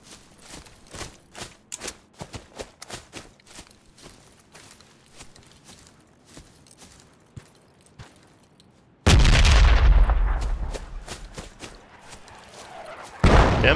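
Gunfire in the military shooter Project Reality, scattered distant shots cracking irregularly, then a loud close mortar blast that booms and fades, with another heavy impact striking at the end.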